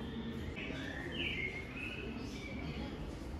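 Recorded birdsong plays over the speakers in the plant section of an IKEA store: faint chirps and whistled calls sit over a steady indoor hum, with quiet shop noise around them.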